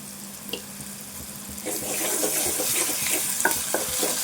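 Ginger garlic paste fries with chicken in a pan: a quiet start, then a steady wet sizzle and crackle rises and continues, with occasional stirring clinks.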